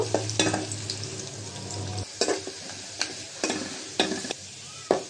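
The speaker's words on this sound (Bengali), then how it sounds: "পেঁয়াজটা ভেজে নিয়েছি" Chopped onion frying in oil in a pot for a mixed vegetable curry, with a low steady sizzle and several sharp clinks and scrapes of a spoon stirring at intervals.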